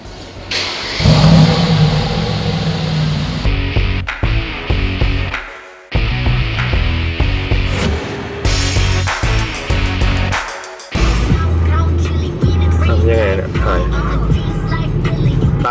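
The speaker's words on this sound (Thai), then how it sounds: "ไปสตาร์ทรถ" A car engine revs in repeated bursts, loud and close, with brief cutoffs between surges and a steady idle rumble later on.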